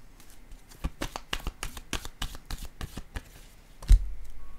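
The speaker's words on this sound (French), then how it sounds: "Je vais piger une autre carte." Tarot cards are shuffled and drawn by hand, a quick series of crisp riffling snaps and slaps at a steady pace, close and clear, ending with a soft thump; no one speaks.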